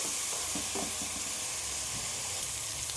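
Vegetables cooking in oil for a bagara rice vegetable curry, a soft, continuous sizzle and hiss with a few faint stirring taps, no voices.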